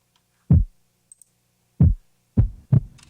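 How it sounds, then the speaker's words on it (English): Sampled heartbeat for a future rave track, EQ applied to trim lows: deep thumping beats, a single thump, a pause, then a close double beat, punchy and loud with no talk. "The heartbeat sounds like this."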